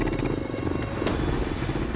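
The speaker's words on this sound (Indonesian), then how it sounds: "motor ojek off-road pun dimodifikasi dengan memasang rantai di bagian roda" An off-road motorcycle taxi with chains fitted to its wheels roars steadily close by, its engine drone thick with rattling, clattering chain noise throughout.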